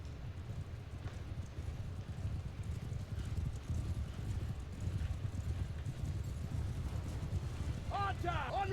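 Horses galloping in the medieval battle game Mount & Blade II: Bannerlord, a steady low rumble of many hooves mixed with battlefield noise throughout, with a brief shouted call near the end.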